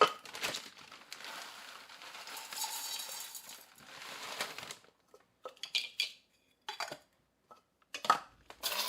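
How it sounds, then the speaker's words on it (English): Dried rose hips rattle and crunch in a blade coffee grinder kept for herbs, a steady whirring clatter for several seconds that then breaks into short bursts of pulsing with brief silences between. "This is actually a coffee grinder, but I have two. I have one I use for coffee and one that I use for herbs."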